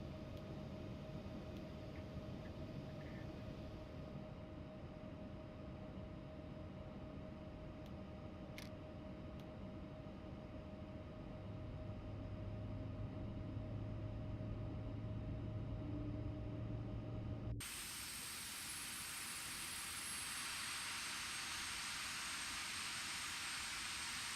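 A simulated X-Crafts ERJ-190 jet engine starts up in X-Plane 12, a steady broadband roar with a rising low hum, then a sudden shift to a brighter, higher-pitched whine as the engine spools.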